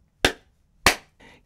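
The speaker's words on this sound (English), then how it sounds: "with 2 loud claps of her hands" Two sharp, loud hand claps about half a second apart, close and dry, followed by a softer brief rustle.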